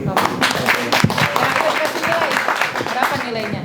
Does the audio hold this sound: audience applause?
yes